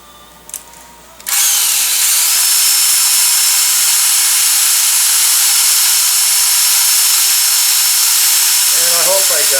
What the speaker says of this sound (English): Drill a hole right about here.